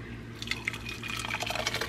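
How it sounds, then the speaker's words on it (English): Homemade salsa pours from a container into a Dutch pan in a home kitchen, a soft continuous liquid gurgle with light splashing, close and fairly quiet with no talking. "So I'm just gonna pour it in this, what's it called, Dutch pan."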